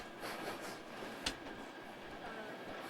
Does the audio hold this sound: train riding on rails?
yes